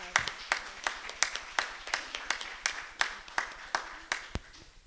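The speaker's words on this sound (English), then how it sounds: "So let's give Josephine Tan a big round of applause." Sparse applause from a church congregation at a Sunday service, a handful of separate claps rising and falling in loose rhythm, fairly quiet and close, with no talking over it.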